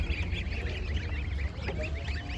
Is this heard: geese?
yes